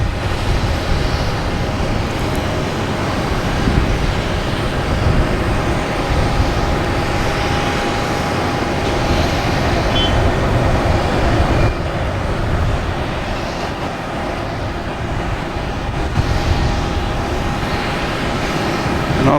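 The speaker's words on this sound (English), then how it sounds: "we have Delta coming in from Newark in E175" Delta Embraer E175 regional jet arriving from Newark at Boston Logan, a steady loud jet roar with deep rumble and a thin whine running the whole time, sustained without break and no voices.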